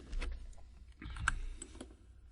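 Computer mouse clicks while editing stairs in architectural design software, a handful of quick light taps in an uneven cluster, close and fairly quiet.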